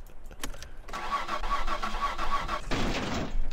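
A car engine in the driving game My Summer Car cranks and catches, then runs at a steady idle with a faint whine before a louder rush of noise near the end, heard alone at close range.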